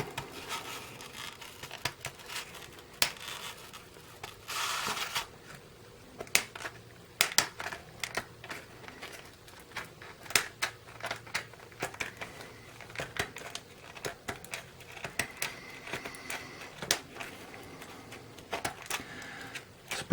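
A comic book slab is snipped open, producing faint scattered clicks, crackles and plastic crinkling in quick irregular bursts across a quiet room, with no talking.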